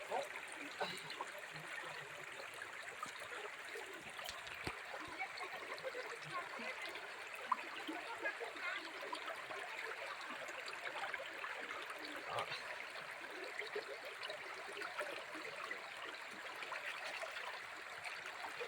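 Sonjhari river in the dense Bastar forest rushing over slippery rocks, a steady broadband flowing and trickling wash that holds even throughout without pauses.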